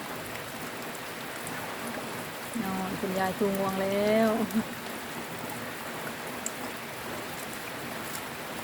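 Steady rain falls outdoors in Lamphun, Thailand, a constant soft hiss throughout, with a voice speaking briefly over it partway through.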